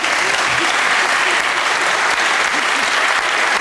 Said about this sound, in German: nochmal Applaus.